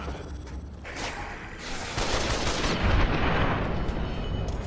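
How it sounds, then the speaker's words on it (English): Automatic rifle fire in Fallout: New Vegas, a dense, continuous rattling burst that swells louder halfway through, rough and muffled rather than crisp. "Let's use our automatic rifle."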